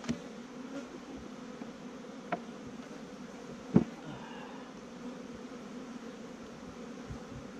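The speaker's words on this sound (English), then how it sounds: "We're going to give these bees a lot of smoke" Bees hum in a low, steady buzz around an opened beehive box in Southern California, with a few faint knocks and clicks from handling the equipment.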